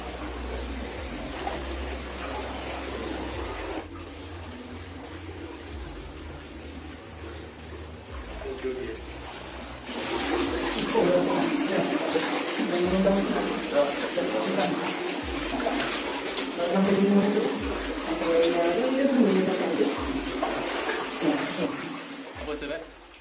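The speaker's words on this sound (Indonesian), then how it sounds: "Kita menyusuri sungai kecil di dalam gua." A small underground river flowing inside a cave in West Sumatra: a continuous rushing, gurgling stream that swells louder partway through, with people talking and echoing over the water.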